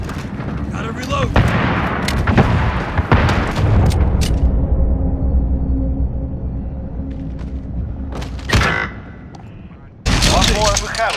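Gunfire and explosions from a shooter video game: sharp, loud cracks and booms hit in irregular bursts over a rumbling bed, with a lull before a final heavy blast near the end.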